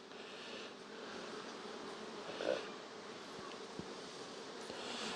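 Honey bees swarm over drawn comb honey frames, giving a steady, close, continuous buzz with a brief louder swell midway and no talk.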